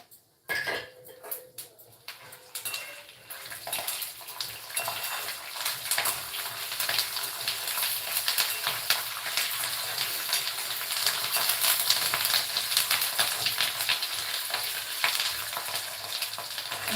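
Curry leaves and peanuts frying in oil for chivda, a steady crackling sizzle with utensil scraping and stirring clatter throughout, growing slightly louder toward the end.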